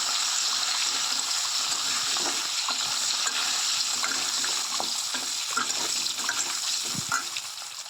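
Potatoes and papaya fry in a pan, a continuous close sizzle broken by repeated scraping stirs, with no talk.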